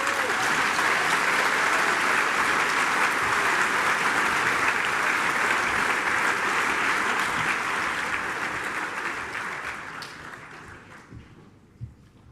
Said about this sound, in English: Give yourself all a round of applause